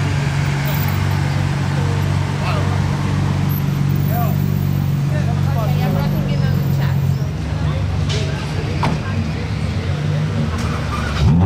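Ferraris pass through Place du Casino in Monaco during a 2022 cavalcade of 170 cars, a steady engine drone and road roar filling the square with a crowd murmuring in the background.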